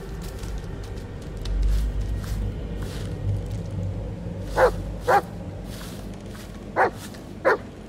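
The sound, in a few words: dog barking in the video game Blair Witch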